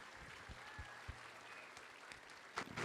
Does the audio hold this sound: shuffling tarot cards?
no